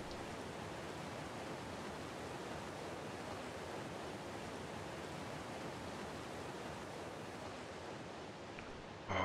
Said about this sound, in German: Einen schicken Wasserfall.